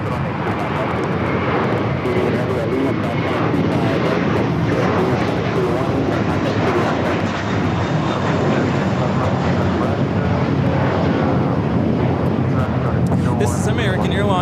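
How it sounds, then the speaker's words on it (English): American Airlines A321 jet taking off for JFK at LAX, a steady broadband engine roar filling the clip at close range, with people talking over it throughout. "This is American Airlines 238 taking off to JFK on the A321"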